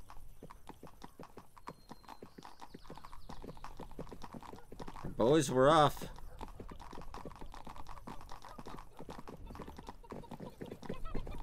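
Horse hooves clip-clop in a steady rhythm as a rider travels in the game 1428: Shadows over Silesia, with a brief loud vocal burst midway and someone talking over the hoofbeats.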